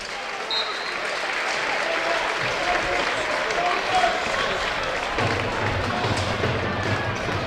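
Football crowd at York City versus Aldershot Town applauding a York substitute warming up, a broad, steady wash of distant clapping and crowd noise behind close radio commentary.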